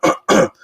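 Two quick, harsh throat-clearing bursts close to the mic, followed by a brief faint tone.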